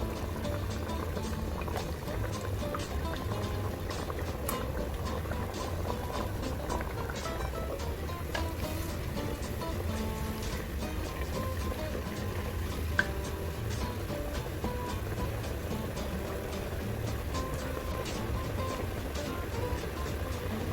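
Potato strips for homemade French fries frying in a batch of hot oil give a steady, dense sizzle and bubbling hiss that holds evenly throughout, close and uninterrupted.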